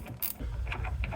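A ratchet fitted with an 8mm socket loosens the negative terminal on a car battery of a 1994 Chevy K1500, giving a brief burst of close, sharp mechanical clicking followed by a few faint ticks.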